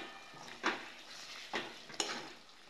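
Mutton pieces tossed into cooked masala in a pan, with a few distinct stirring scrapes and a soft, quiet sizzle between them.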